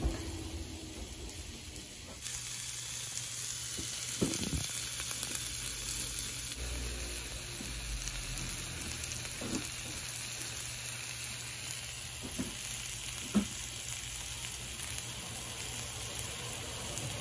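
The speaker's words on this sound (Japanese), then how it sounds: "あ、こちらで焼くんですか？" Okonomiyaki grilling on a hot plate at an Osaka restaurant, a steady broad sizzle running throughout with a few clinks and scrapes over a low background hum, no talk.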